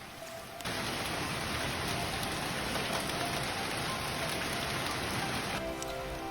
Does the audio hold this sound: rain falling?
yes